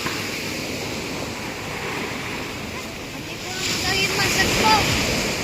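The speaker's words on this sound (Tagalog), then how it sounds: "Medyo may alon nga." Sea waves wash steadily along the shore with broad hissing surf and wind noise on the microphone, swelling a little louder toward the end, with no clear talk.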